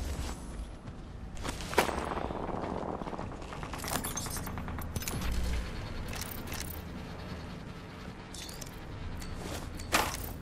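Gunfire in the Apex Legends video game, with sharp bursts of automatic weapon shots breaking out at intervals over a constant background rumble, mixed with footsteps and movement whooshes, moderately loud and spread across the clip.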